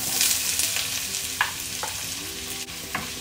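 Onions sautéing in hot oil for goat adobo give a close, steady sizzle, broken by several light knocks and scrapes of a spatula against the pan.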